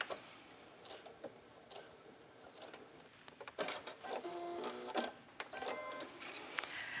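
Domestic sewing machine back stitching across a fabric gusset during a garment alteration, giving short mechanical runs and ticking bursts that grow busier and louder toward the end, close up with no talking.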